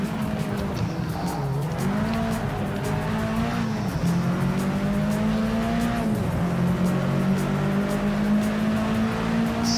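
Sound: race car driving in video game Project Cars 3

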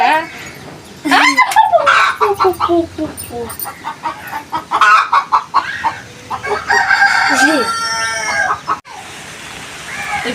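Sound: chickens clucking

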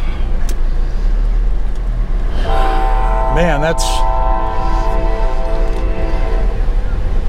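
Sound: train passing

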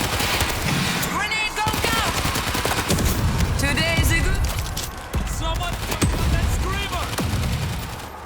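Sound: gunfire in the video game World War Z: Aftermath

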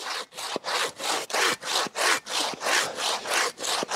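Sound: Fanno K24 23.5 inch hand saw cutting wood

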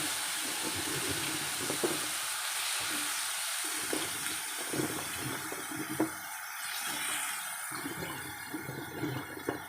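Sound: string beans and chayote added to sizzling pan

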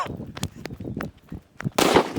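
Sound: firecracker exploding inside a pressure cooker

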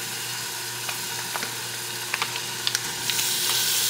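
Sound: meat browning in a pot for pasta

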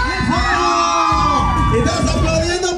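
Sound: crowd shouting and cheering

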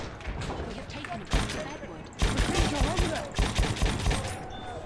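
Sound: Chauchat gunfire in Battlefield 1 video game

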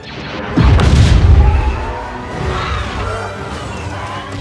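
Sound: reactor explosion, from video game Star Wars Battlefront II

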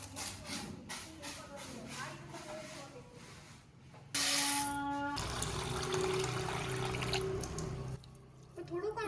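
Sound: water running while washing rice

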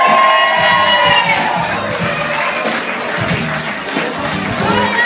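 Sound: crowd cheering

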